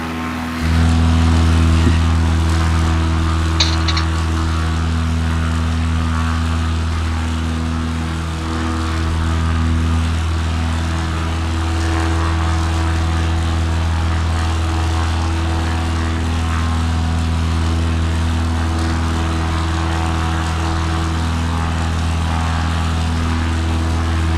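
A propeller bush plane flies low over the New England backcountry, its loud, steady engine drone filling the whole stretch without letup and with no voices.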